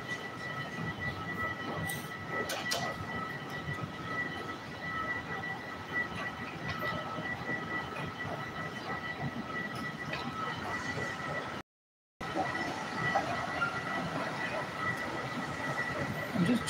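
A CTA Red Line train in Chicago, heading northbound toward Rogers Park, gives a continuous rumbling roar with steady high wheel-squeal tones, nearby and loud throughout, broken by one brief dropout, while people talk.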